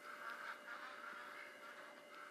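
Duck quacking from a TV in a room, faint and somewhat distant, a few short nasal calls over a steady background hum.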